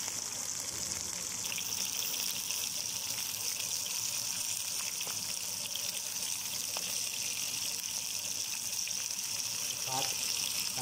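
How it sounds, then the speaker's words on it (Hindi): Water is poured into a wok of frying mutton karahi with garlic and ginger, giving a soft, steady gush under continuous hiss and faint kitchen clatter. "अब हमने अपने मटन में पानी ऐड कर दिया"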